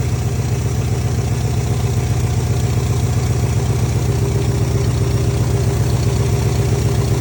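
A car engine idling steadily up close with a low, even rumble and a faint hum on top; its small burps show only as slight wobbles in the drone, and no one speaks.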